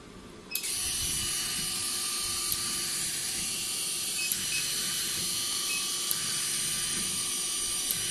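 The vacuum roller of a Velashape V10 body slimming machine hums and whirs steadily up close, with faint periodic clicks ticking over the continuous mechanical drone.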